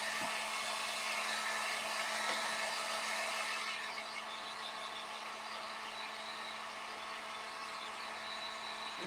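A hair dryer blows steadily on a piece of snow-themed craft home decor, a loud continuous whoosh close by that drops slightly in pitch and level partway through and then keeps running without pause.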